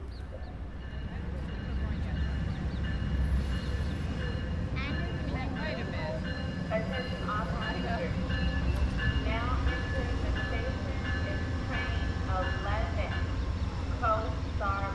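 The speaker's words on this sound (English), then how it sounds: "Hopefully the train is now coming into the platform." The Coast Starlight passenger train rumbles into a station platform, a continuous low rolling drone with squealing, screeching tones from wheels and brakes rising throughout.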